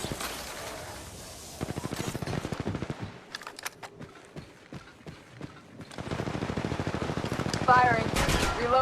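Automatic gunfire in the mobile shooter Apex Legends Mobile, rapid bursts of shots with single cracks between, loud and close, mixed with game effects and a voice.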